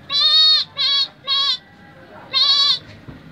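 A woman imitates a goat bleating with her voice, giving four loud, nasal, wavering bleats close to the microphone, three in quick succession, then a pause before a final longer one.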